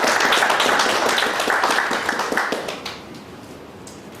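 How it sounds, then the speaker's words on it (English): An audience at a professional chartered accountants' meeting in Bangalore claps together, a loud, dense burst of applause that tapers off and fades to quiet near the end. "Big round of applause to"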